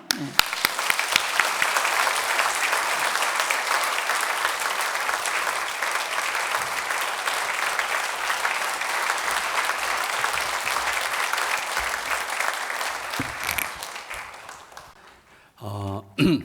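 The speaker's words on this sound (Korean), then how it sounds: "귀한 박수로 환영하겠습니다" A church congregation at a Sunday service gives sustained, dense applause welcoming a pastor to the stage, a steady roar of many hands that fades out near the end, followed by brief sounds of movement.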